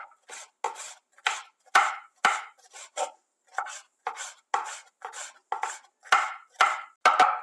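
Knife slicing red kapya peppers thinly on a board: a steady run of about twenty crisp, close chopping strokes in an uneven rhythm, with no talking.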